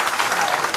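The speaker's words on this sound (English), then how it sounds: "A round of applause for him" A meeting audience gives a brief, steady burst of applause, a dense wash of clapping with no voices over it.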